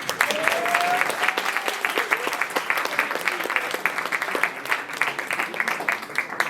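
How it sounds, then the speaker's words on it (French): Audience applause at an improv theatre show, steady clapping from a crowd filling the room for the whole stretch, with a brief whistle near the start. "on les applaudit bien fort."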